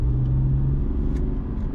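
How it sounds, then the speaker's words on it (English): A BMW 430d with a six-cylinder diesel engine accelerates, giving a deep, close, continuous grumbling drone as the turbo comes in, with no talk over it. "It's got quite a deep kind of grumble, and you can hear the turbo kicking in"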